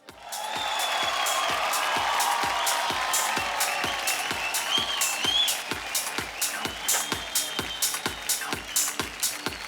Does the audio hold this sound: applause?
yes